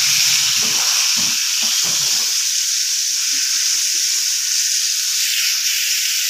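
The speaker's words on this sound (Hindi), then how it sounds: "ये अभी इसको फ्राई कर रहे हैं हम" Food frying in an oil pan on a stove, a steady bright sizzle and hiss running throughout at close range, with a few low clatters and stirring knocks early on and no talking.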